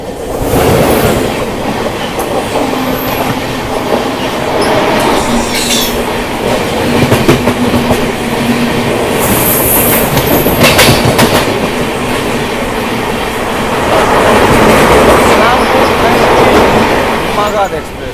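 The Magadh Express, train 20801 from Islampur to New Delhi, rushes past on Indian railway tracks, a loud continuous clickety-clack of wheels over rail joints with a steady rumble and brief squeals throughout.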